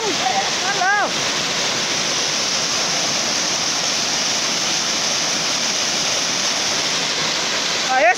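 A hidden waterfall in Brazil's Serra do Mar makes a loud, steady roar of falling water that fills the whole stretch, with brief calls from people heard over it near the start and end.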